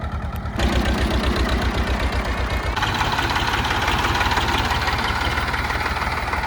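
Diesel tractor engines, a Sonalika DI-35 and a Mahindra working in mud, run close by with a steady, heavy low chugging throb that holds without pause throughout, no voices over it.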